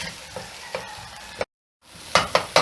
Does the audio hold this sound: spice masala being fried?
yes